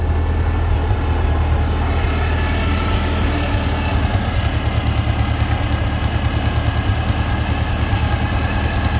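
A car engine treated with Seafoam idles steadily up close, a loud, even low rumble with a fine regular pulse throughout and no talking.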